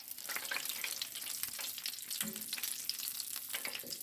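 Steady, crackling sizzle of food frying in hot grease, with dense popping and spitting throughout and no voices.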